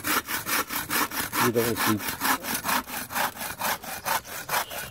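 A hand saw cuts through a log in steady back-and-forth strokes, rasping and rhythmic, close by; a brief voice murmurs partway through.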